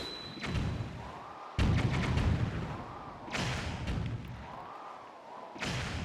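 Cannon blasts in Wind Waker HD, heavy booming shots landing in a slow irregular series of about four loud thuds, each followed by a rumbling decay.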